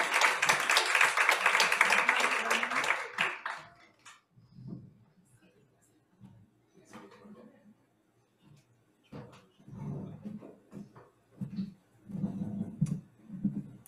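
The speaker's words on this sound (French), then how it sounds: "On peut lui donner une bonne main d'applaudissement." Audience applause at an evening talk on obesity facts and fictions, a dense burst of clapping for the first three seconds that fades out, followed by scattered sounds and speech.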